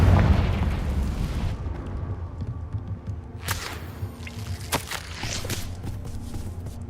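A Confringo fire spell from Hogwarts Legacy bursts with a heavy low boom at the start, then rumbles into a busy game soundscape of scattered crackles and sharp pops around the middle and later seconds.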